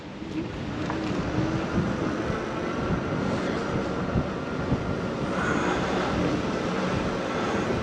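A Vitilan U7 electric bike's motor pulls from a standstill up a very steep hill on throttle alone, its whine steady under loud, continuous wind rumble.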